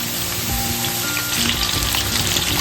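Osso buco sears in a hot pan, giving a loud continuous sizzle and crackle of frying meat with small pops throughout and no talking.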